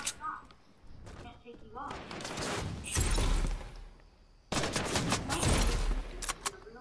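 Video game gunfire in Fortnite rattles in dense, loud bursts of rapid shots and impacts, broken by a short lull and then resuming, with a voice speaking over parts of it.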